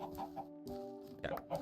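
Minecraft chickens cluck in a few short bursts over a steady game music drone, the calls moderately close and repeating at an irregular pace.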